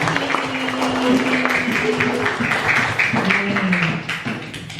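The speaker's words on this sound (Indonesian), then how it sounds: "beri tepuk tangan untuk kelompok melati" Classroom applause for a student group that has just finished presenting, a dense spread of clapping from many hands lasting throughout and tapering near the end, with faint voices and a tonal hum underneath.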